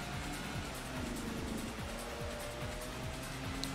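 A race car engine in the PS2 game Grand Prix Challenge drones steadily under faint game noise, revving in repeated rising sweeps as the car accelerates through gears, no voices.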